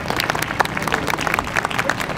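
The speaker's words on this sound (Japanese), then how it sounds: "林先生にもう一度大きな拍手を送りくださいませ。" An audience at a charity concert in Kobe gives a high school choir and its teacher sustained applause, with dense, crackling claps continuing throughout at a moderate distance.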